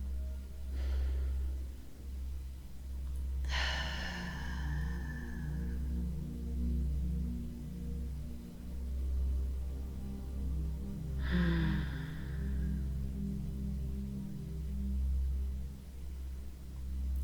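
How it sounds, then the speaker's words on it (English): Two slow, deep breaths taken during a guided relaxation, each a soft, long airy rush several seconds apart over a low steady hum. "Take a few deep breaths."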